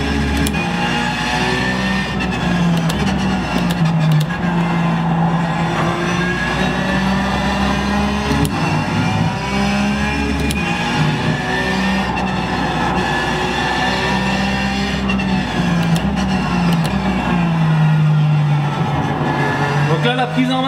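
Race car lapping the Gilles Villeneuve circuit in a racing video game driven with a Porsche steering wheel, engine whining steadily and rising and falling through gear changes, loud and continuous with someone talking over it.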